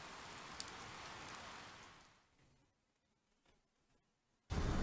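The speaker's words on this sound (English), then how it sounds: "Blood rain! Vampire rain!" Vampire blood rain in a video game, a dense hiss of rainfall that fades to near quiet midway, then a sudden loud burst of noise returns at the very end.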